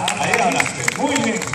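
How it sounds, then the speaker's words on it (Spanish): A street-comedy audience in Guayaquil bursts into close, lively applause and crowd noise, with scattered sharp claps standing out, and a voice talks over it. "un aplauso para la mujer guayaquileña"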